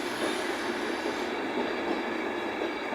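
A Class 91 locomotive working with a Class 67 driving van trailer arrives at a station on a Transport for Wales service to Cardiff, with a steady loud rumble of wheels and rails rolling close by.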